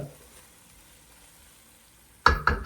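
Tomatoes cooking in a pan over a low flame, quiet at first, then a burst of close, crackling sizzle and stirring sounds in the last half second or so.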